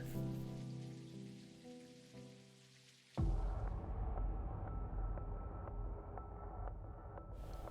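Rain falls outside in the video game Necrobarista. A soft musical tone fades away before steady rain suddenly swells in, pattering evenly and fairly close for several seconds with faint repeated drips.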